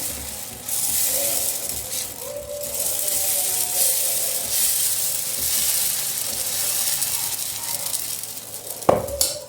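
Small rounds of dosa batter hit a hot pan and set off a steady, close sizzling hiss that lasts throughout. A brief clatter of utensils sounds near the end.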